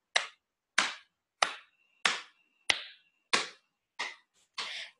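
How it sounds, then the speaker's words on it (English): Eight sharp, evenly spaced claps at a steady beat, close and crisp with silence between them, as hands keep time for a children's rhyme; the last clap is softer and longer. "Let's get some clapping going on."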